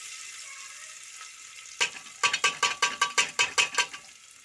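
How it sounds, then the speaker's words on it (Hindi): Whole spices hit hot oil in a pressure cooker while tempering for jackfruit curry. After a quiet start, a sharp sizzling burst is followed by a rapid series of loud crackling pops, close and with no voices. "तो इधर फाइनली मेरा तेल पड़ गया, पहले से रेडी हो गया है। उसके बाद मैं इधर तड़का डाल लूँगी।"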